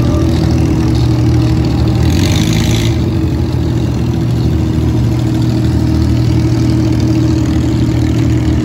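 Continuous loud engine drone and road rumble from a vehicle driving on cement at a resort in Punta Cana, Dominican Republic, steady throughout with a brief brighter hiss partway through.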